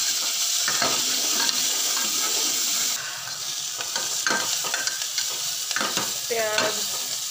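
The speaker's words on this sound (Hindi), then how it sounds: "प्याज को अच्छे से पिंक करेंगे।" Onions fry in a pan for an onion, potato and tomato sabji, a loud continuous sizzle with repeated scraping strokes of a spoon stirring them, close and without speech.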